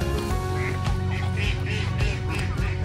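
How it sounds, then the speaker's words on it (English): Geese honking and quacking close by outdoors, repeated overlapping calls throughout. "So much geese."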